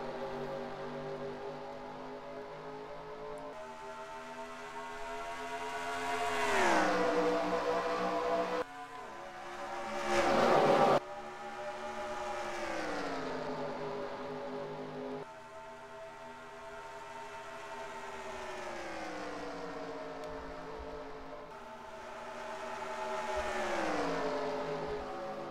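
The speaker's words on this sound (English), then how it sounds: "Green flag racing at the Las Vegas Motor Speedway." Race cars at Las Vegas Motor Speedway scream past one after another, each engine rising and falling in pitch as it sweeps by, loud and without voices.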